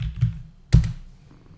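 Two clicky keystrokes on a computer keyboard, close and fairly crisp, the second one louder, with quiet gaps between them and no speech.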